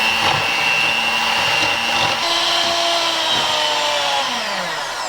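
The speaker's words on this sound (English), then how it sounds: "we're going to whip our heavy cream to soft peaks" An electric hand mixer whips heavy cream toward soft peaks for a no-bake cranberry orange cream pie, giving a loud, steady whirring motor drone that holds through the whole stretch with slight shifts in pitch as the beaters work.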